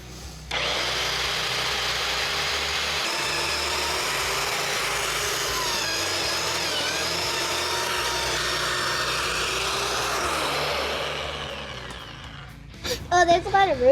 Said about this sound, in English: this is my first time using this Vevor auger